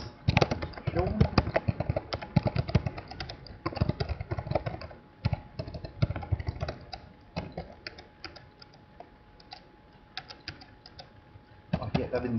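Keyboard typing while entering supplier details in Winfinans accounting software, a steady run of close, light key clicks in bursts with pauses, under a voice speaking Danish.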